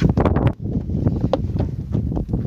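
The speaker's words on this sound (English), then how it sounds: "Oh, it's windy." Strong wind buffets the microphone outdoors in open New Mexico desert at a nuclear bomb test site, a loud, continuous low roar with gusty surges throughout.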